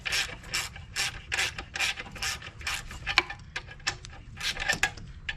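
A ratchet loosening the take-up tensioner on a vehicle's alternator belt, heard as repeated rhythmic bursts of clicking strokes, close and clear, with no talking.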